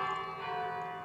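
Bells ring as a video game sound effect, a brief, faint, shimmering chime held for about a second.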